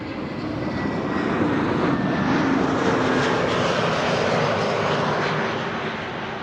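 ITA Airways airliner from Milan landing at Amsterdam Schiphol, a loud jet roar that swells toward the middle with shifting whining tones, then eases slightly, with no voices over it.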